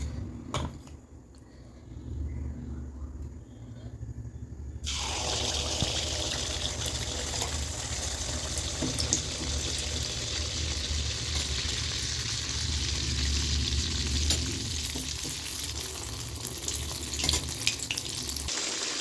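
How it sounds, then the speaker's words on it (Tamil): Sorghum kandarappam batter, a Chettinad-style sweet made with white sorghum, is poured into hot oil. After a few quiet seconds a loud, steady sizzle and bubbling begins and continues close by. "இன்னொன்று ஊற்றி காமிக்கிறேன் பாருங்கள். ஊற்றும்போது நல்லா அடியில் கரைச்சி எடுத்து ஊற்றணும்."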